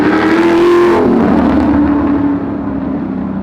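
A 1966 Ford Mustang with a 347 stroker V8 revs hard, a loud near roar that climbs and then drops off, settling into a lower steady rumble.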